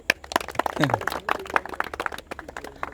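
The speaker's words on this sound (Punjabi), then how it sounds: "ਤਾੜੀ ਲਾਓ ਜੀ।" A studio audience on a Punjabi quiz show claps for a correct answer: scattered, uneven hand claps run throughout, mixed with voices and crowd murmur at moderate level.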